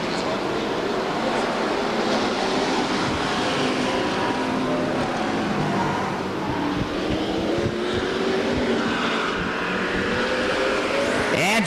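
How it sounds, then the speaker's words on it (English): Race cars roar around the oval at Stockton 99 Speedway, a continuous loud engine drone with overlapping passes, shifting pitch and a faint tire squeal toward the end. "Here comes Chappell to complete lap number 26."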